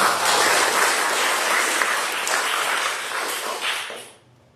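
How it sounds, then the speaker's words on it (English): Applause from a church worship service audience, dense and steady broadband clapping that fills the room for about four seconds before cutting off abruptly at the end. "Let's give her a round of applause."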